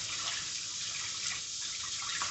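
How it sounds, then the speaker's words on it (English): A hand rinsed under a running kitchen tap during chicken cordon bleu preparation; a continuous hissing splash of water, close and fairly loud, fills the short stretch without any talk. "Then rinse your hand off."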